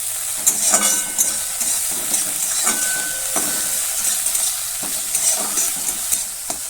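Spices frying in a pan for coriander chutney with turmeric and salt mixed in, a constant hissing sizzle under periodic clinks and scrapes of a spoon stirring, close and without talk.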